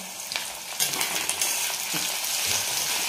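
Potatoes frying in an oil-coated pan for sabudana khichdi, a steady broad sizzle with a few light scrapes and clinks of stirring, close and continuous with no talking.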